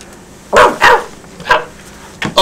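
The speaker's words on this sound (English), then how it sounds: "Oh, look. It's a little Dalmatian." A small Dalmatian puppy barks in a few sharp, close yips, with two quick barks, a pause, another bark and a final short yip.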